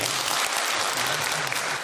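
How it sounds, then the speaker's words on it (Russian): Brief burst of audience applause honouring a performing studio collective at an awards event, full and even clapping throughout with no talk over it. "Аплодисменты."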